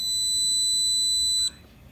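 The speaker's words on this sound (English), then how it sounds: "Tap it again and it will start recording again with it beeps." Horizon iVue Pro camera glasses give a steady high electronic beep that holds for about a second and a half, then cuts off, leaving quiet room noise.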